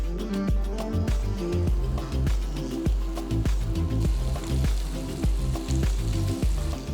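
Paneer roasts in ghee in a pan over a medium flame, giving a steady close sizzle with repeated low thumps and clatters as the pieces are flipped.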